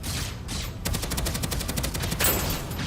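Rapid automatic gunfire in the shooter game Deadzone: Rogue, a loud close burst of shots after a couple of short bursts, running almost continuously.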